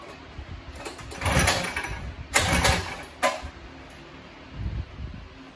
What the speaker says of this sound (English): You just want to start the motor.